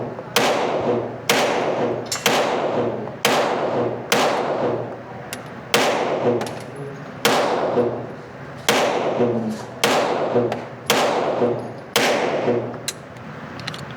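A Smith & Wesson revolver fires about a dozen loud, sharp shots at an indoor gunnery range, each crack followed by a short echoing decay, spaced roughly a second apart in an even rhythm.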